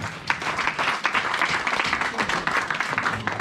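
A church congregation claps and applauds during a French-language sermon, a dense, steady wash of many hands at close range that carries on throughout without speech.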